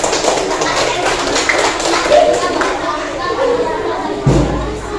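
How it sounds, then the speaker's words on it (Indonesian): A school class applauding a student group: busy, uneven clapping from many children mixed with chatter and a few taps and thumps, fairly loud and close throughout. "Kita berikan tepuk tangan untuk kelompok 6."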